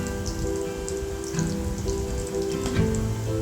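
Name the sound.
egg pakoras deep-frying in oil over medium heat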